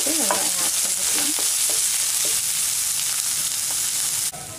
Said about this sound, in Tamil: இப்போ இஞ்சி பூண்டு பச்சை மிளகாய் ஆட் பண்ணிக்கலாம். இது ஒரு நிமிஷம் நம்ம வதக்கிட்டு வெங்காயம் ஆட் பண்ணிக்கலாம்.